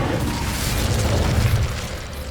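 A fire spell is cast in Hogwarts Legacy, giving a sustained roaring burst of flame with a deep rumbling body that holds steady for a couple of seconds.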